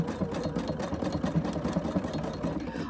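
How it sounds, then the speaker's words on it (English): A sewing machine fitted with a walking foot stitching through a quilt, running in a continuous mechanical whirr with a rapid needle rhythm, close and steady for a few seconds. "I'm gonna sew for a second or two so you can see my machine at work"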